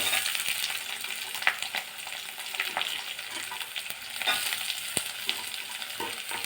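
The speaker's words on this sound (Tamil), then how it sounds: "வெங்காயமும் கொஞ்சம் வதங்கணும்" Dried red chilies and onion sauté in a pan for parboiled rice upma, a steady, fairly loud frying sizzle broken by the scrape and clink of stirring throughout.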